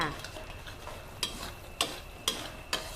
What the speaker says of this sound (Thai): ผัดให้ทุกอย่างมีกลิ่นหอม แล้วก็มีแบบเป็นซอสข้นๆ แบบนี้แล้วนะคะ